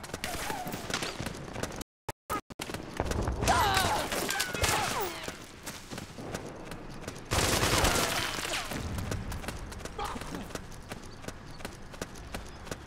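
Sustained suppressing gunfire rattles through a battle in Metal Gear Solid 4, heavy continuous bursts with a brief drop-out, surging again midway amid battlefield noise and shouts.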